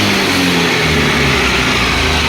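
A Honda Activa 125 scooter said to have a gearbox fault revs hard in a steady, continuous engine roar, close and loud, with no voices over it.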